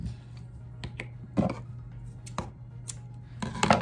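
Scissors snip through yo-yo string in a handful of short, sharp, quiet cuts spread across a few seconds over a faint steady hum.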